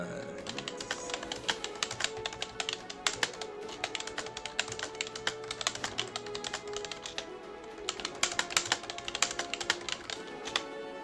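Rapid clicking of a computer keyboard, close and dense bursts of keystrokes tapping continuously with short irregular pauses.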